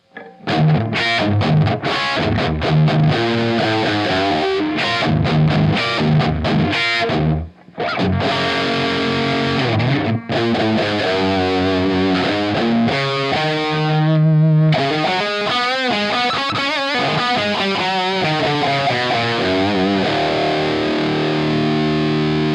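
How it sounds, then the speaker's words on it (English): Heavily distorted electric guitar playing chords and riffs, loud and saturated, with a brief pause midway before the gritty tone resumes. "you can hear there's a difference in the way that they distort"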